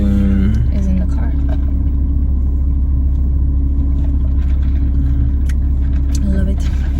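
Loud, constant low engine and road rumble from a car being driven, with brief tonal sounds, steady and close throughout.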